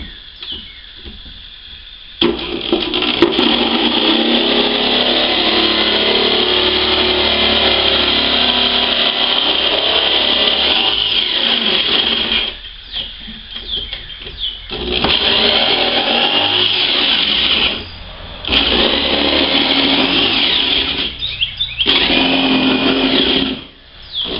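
A power saw blade cutting into a kayak, a loud continuous whining buzz in long runs broken by short pauses and restarts, close up with no talk.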